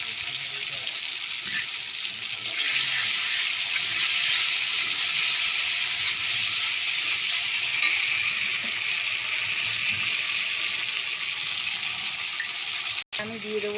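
Ground cumin and coriander paste with a little turmeric frying in a pan, giving a steady, bright, close sizzle that runs unbroken throughout, with an occasional faint clink of a stirring spoon.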